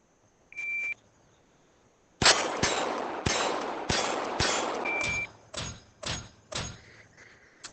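A shot timer beeps during VR shooting practice, followed after a pause by a fast string of sharp, loud shots or clicks in an uneven rhythm, close to the listener.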